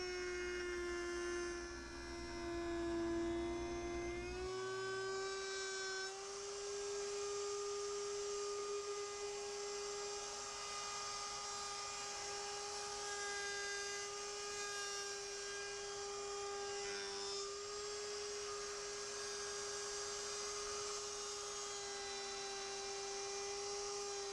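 A router table cuts a guitar body around a template in one pass, giving a loud, steady high-pitched whine that shifts pitch slightly as the wood is fed through, with no talking.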